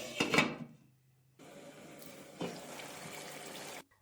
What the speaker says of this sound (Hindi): जिस बर्तन में हमने पोटैटो को मैरिनेट करके रखा था, उसमें आधा कप पानी डालकर वो हम ऐड कर देंगे